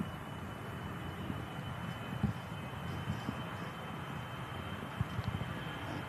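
A business jet departs from runway 05 left at Manchester Airport, its steady distant engine roar holding low and even throughout with little change in level.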